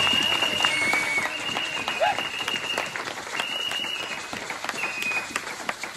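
A congregation at a Sunday church service applauds loudly and continuously, a thick crowd of clapping hands with shouts and cheering voices rising over it throughout.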